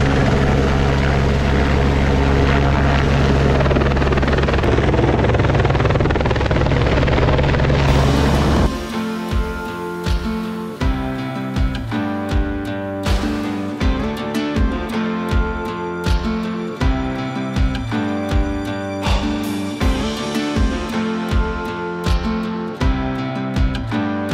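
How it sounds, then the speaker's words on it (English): A loud helicopter's rotor thumps in a fast steady pulse nearby at a shelter on New Zealand's Routeburn Track, preceded by a dense roaring wash of engine and wind noise. "Got a little bit of uh, a helicopter delivery"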